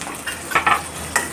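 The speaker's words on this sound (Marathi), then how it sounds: "कांदा हा गुलाबी कलर येईपर्यंत बारीक गॅसवर तळून घ्यायचा।" Chopped onion frying over a low flame in oil with mustard seeds and cumin: a soft sizzle broken by a few quick stirring scrapes.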